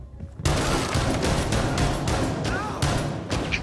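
Gunfire in Rainbow Six Siege, a dense run of repeated loud shots starting abruptly and continuing steadily, with a voice faintly underneath.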